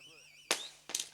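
Firecrackers at a Tamil village event give two sharp, loud bangs about half a second apart, following brief talk.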